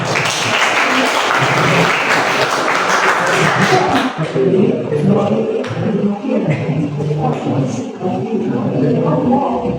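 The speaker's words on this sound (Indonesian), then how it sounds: "Oke, tepuk tangan." Students applaud after a group presentation in a high school classroom, loud dense clapping filling the room for several seconds while voices carry on underneath.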